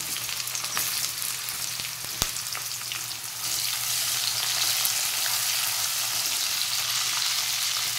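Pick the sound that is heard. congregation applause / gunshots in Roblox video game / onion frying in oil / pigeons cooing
onion frying in oil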